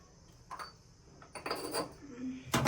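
Chicken kebab marinade stirred in a bowl for homemade street-style kebab: scattered light clinks and scrapes of a spoon on the dish, a few taps building to a sharper clatter at the end, fairly quiet.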